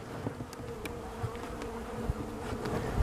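A steady, dense hum of many honeybees buzzing together inside a hive, continuous and close, with occasional individual bees droning past.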